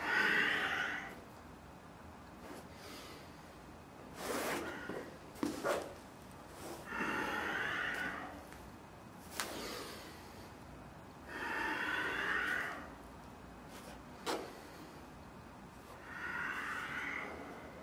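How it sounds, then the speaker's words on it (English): Heavy breathing after an exercise set in a home workout: a person takes loud, close, rhythmic snorting breaths through the nose and mouth, about one every two to three seconds, with no other sound. "I'm breathing as well to get the breath back."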